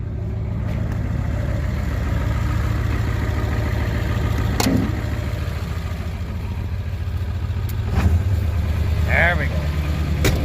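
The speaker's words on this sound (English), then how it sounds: "Rev her up, put her on high idle." Engine with a straight-pipe exhaust revved up and held at high idle, a steady, loud, rumbling drone throughout, with a brief spoken remark over it.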